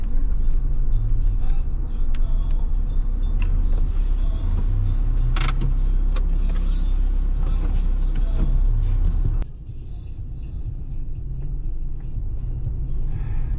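A car driving along a road in Poland, heard from inside the cabin as a steady low engine and road rumble with occasional clicks, which drops to a quieter hum near the end, while people talk in the background.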